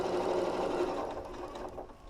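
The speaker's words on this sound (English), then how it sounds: "So I'm going to go all the way around and stop at those double pins on the other side." A Janome M6 sewing machine stitches steadily around a bamboo fabric neck warmer, a close, continuous mechanical whir with no talking.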